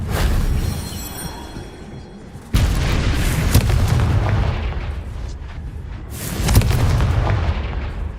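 Confringo fire spell explosions in the video game Hogwarts Legacy, several loud booming bursts with abrupt onsets and rumbling tails, close and forceful.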